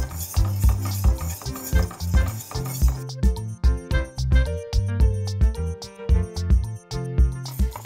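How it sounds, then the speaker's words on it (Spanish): Lemon pie cream is stirred continuously in a pot, a spoon scraping and clinking against the metal in a regular, close rhythm of knocks and swishes with no voices. "Aquí tenemos que estar removiendo continuamente."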